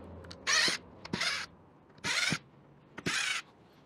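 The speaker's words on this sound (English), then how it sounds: "I'm gonna remove these screws here" Screws being removed from a car interior come through as four short ratcheting, creaking mechanical bursts in an uneven rhythm, close and fairly quiet against a low background hush.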